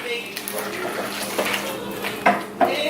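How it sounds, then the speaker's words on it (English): A utensil clinks and scrapes in a pan as bow tie pasta is folded into a vegan coconut cream and milk sauce, soft stirring broken by a couple of sharper knocks, under a person speaking. "we're just going to bind the sauce and the pasta together"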